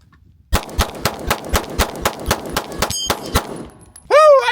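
Pistol shots fired at a target on a tactical training range, about a dozen sharp, loud reports in a steady rhythm with metallic ringing hits between them, followed by a brief voice at the end.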